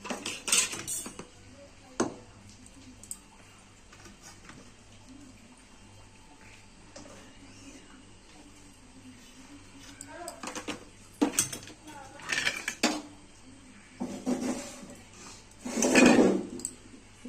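A metal pizza pan is set down into a preheated kadai (wok), with clanking metal-on-metal knocks and scrapes that grow louder toward the end, over a faint background hiss.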